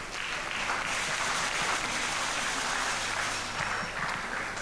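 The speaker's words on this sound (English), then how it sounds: "Please give him another round of applause" Sustained round of audience applause for a minister at a regional town hall meeting, dense continuous clapping from a crowd holding steady for several seconds with no talk over it.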